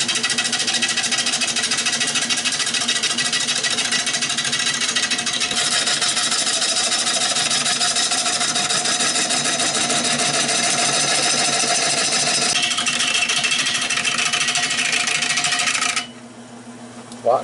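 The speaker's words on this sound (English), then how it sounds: "hopefully I can get my lathe up to speed now" A woodturning lathe running at speed while turning a rimmed bowl, a steady even mechanical whir with a fast rhythmic ticking, loud and continuous until it cuts off near the end.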